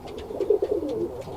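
A Birmingham Roller pigeon hen coos in a short, soft run of low throaty pulses, close to the mic and heard alone.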